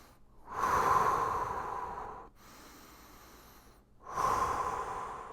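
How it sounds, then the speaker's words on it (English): Slow, deep breaths during a seated leg exercise: two loud nasal inhales with a softer exhale between them, close and clear with no talking. "inhale as the knees come up, exhale as the knees go down"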